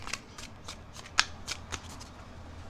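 Tarot cards riffle and slap together in a series of short, crisp bursts, one sharper snap standing out midway, close and fairly quiet with no talking.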